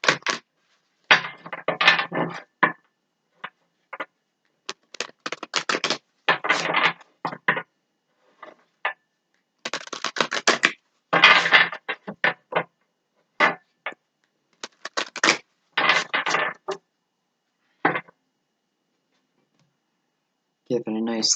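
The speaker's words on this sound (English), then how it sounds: "let's give them a couple shuffles." Tarot cards being shuffled by hand, close and crisp, in bursts of rapid riffling clicks and flutters separated by short silent pauses, with one final faint rustle at the end.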